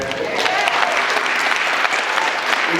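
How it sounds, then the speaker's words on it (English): A crowd at a city council candidates' forum applauds, dense and loud clapping filling the room continuously, with faint voices mixed underneath. "you can clap for that."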